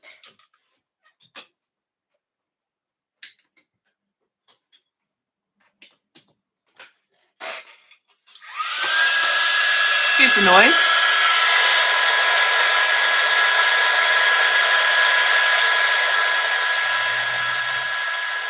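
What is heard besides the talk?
heat gun melting embossing powder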